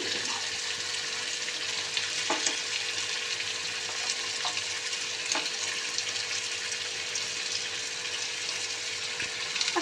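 Fish bones frying in a pan give a steady, close sizzle that runs without a break, with a few sharper crackles and spits and no talking.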